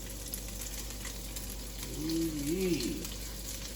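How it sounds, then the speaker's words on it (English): Asparagus sautés in a wok with soy sauce and sesame oil, giving a faint, steady, low sizzle. A voice briefly exclaims partway through. "we're gonna saute it in the wok"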